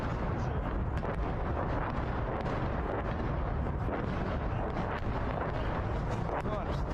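Artillery shelling and explosions in wartime Bakhmut, Ukraine: a dense, unbroken wall of rumbling roar with occasional sharper blasts, loud and sustained throughout.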